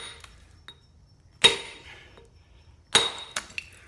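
Two sharp metallic strikes of a big hammer on a chisel into stone, about a second and a half apart, each ringing briefly, followed by a couple of lighter taps against a quiet background.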